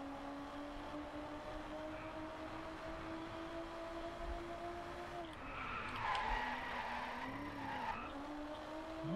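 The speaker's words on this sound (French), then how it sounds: "C'est léger quand même les drifts qu'elle nous sort" Tires squeal in a long drifting slide over a steady engine drone in the racing video game Driveclub, the pitch bending as the car swings through the turn, fairly quiet overall.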